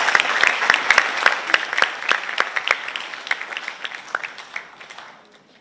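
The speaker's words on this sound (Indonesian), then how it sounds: "Tepuk tangan buat adik-adik sekalian." Applause for students at a school gathering during Pope Francis's visit, a crowd clapping steadily with sharp individual claps standing out, strong at first and thinning toward the end, with no talk over it.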